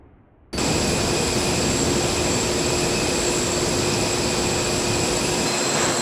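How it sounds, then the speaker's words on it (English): Airplanes banking in flight give off a loud, steady jet engine roar that starts abruptly and holds unbroken, with no voices. "Feeling the G-force as the planes bank first one way, then the other"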